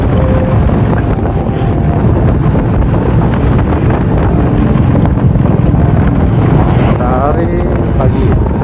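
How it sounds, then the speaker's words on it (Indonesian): Strong morning wind buffets the microphone outdoors in a coastal town, a loud constant roaring rumble that swamps everything, with faint traffic and a voice buried underneath. "ini anginnya lumayan kencang"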